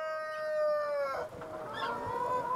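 A chicken on a Jirisan mountain farm, showing signs of illness, lets out a drawn-out crowing call followed by a few soft clucks, close and fairly clear.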